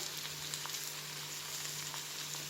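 Kofta sizzles on onions in an oiled pan, a quiet, even hiss with faint crackles and a low steady hum beneath, close and uninterrupted without speech.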